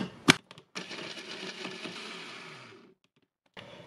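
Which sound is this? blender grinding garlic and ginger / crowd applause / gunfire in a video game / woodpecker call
blender grinding garlic and ginger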